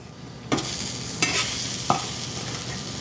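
Food frying in a seasoned iron pan at medium heat, a steady close sizzle broken by three sharp scraping clacks of a utensil stirring or turning the pieces, with no voices.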